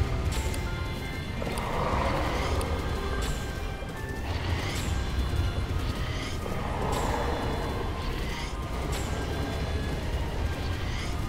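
A horse galloping in the video game Zelda: Breath of the Wild, rhythmic clip-clop hoofbeats with repeated whinnies and neighs over a busy, continuous game soundscape.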